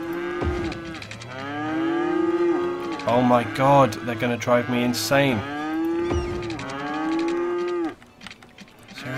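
Cattle on a farm in the Cities: Skylines city-building game moo loudly and repeatedly, the drawn-out calls overlapping one another while someone speaks between them.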